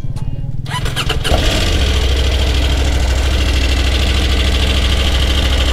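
A motorcycle larger than a 390 cranks with a few sputtering bursts, catches, and settles into a loud, steady, close-up idle that rumbles on to the end.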